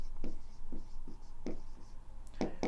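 Chalk or marker strokes writing a word on a board during a beginner piano music theory lesson, several short taps and scrapes spaced unevenly, fairly faint and close with no talk.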